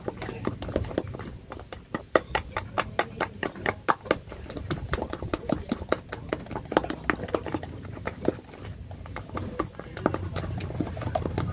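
Sugar-free martabak manis batter is stirred briskly in a bowl, making a rapid, uneven run of wet tapping and clacking strokes that continues steadily throughout.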